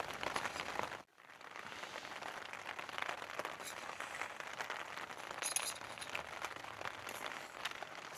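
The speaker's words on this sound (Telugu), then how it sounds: "బట్ వర్షం అయితే ఆగట్లేదు అసలు." Steady rain pattering at a campsite beside Kotepally Reservoir, a dense continuous hiss with one brief dropout near the start, close and fairly loud, no talking.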